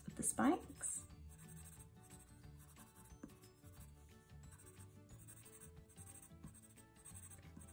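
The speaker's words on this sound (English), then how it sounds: "drawing lots of thick black lines" A pen or marker drawing thick black lines on paper, soft repeated scratchy strokes close by, faint and steady, with a brief louder squeak at the start.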